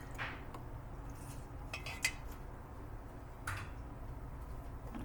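Cooked pasta is stirred into cheese sauce in a pot for mac and cheese, giving faint, scattered spoon clinks and soft scraping against the metal over a low background hum.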